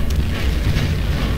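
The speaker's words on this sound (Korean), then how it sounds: "A volcano has erupted." A volcano erupts in the strategy game Anno 1404, a loud continuous low rumbling boom with a dense roar throughout, no speech.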